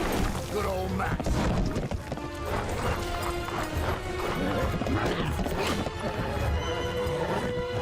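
An animated cartoon horse from Tangled: The Series gives loud whinnies over pounding hooves in a dense, busy mix with music and voices.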